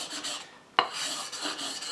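An Esee 5 knife blade is being re-edged on a whetstone, giving soft, faint rasping strokes with one sharper scrape partway through.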